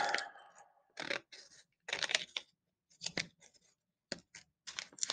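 Scissors snip through a stapled paper booklet in a quiet room, with a series of short, crisp cuts in uneven bursts and small pauses between them.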